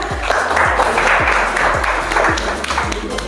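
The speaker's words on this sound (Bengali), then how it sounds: "ওর জন্য একটা জোরে হাততালি হয়ে যাক" Studio audience at a children's reality talent show clapping loudly for a young contestant, a sustained burst of applause with repeated pitched electronic blips or tones recurring roughly every half second beneath it.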